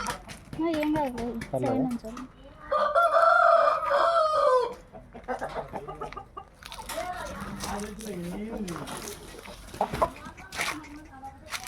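Fighting roosters, one red, crow and cluck close by, one long loud crow in the middle, with people talking intermittently around the birds.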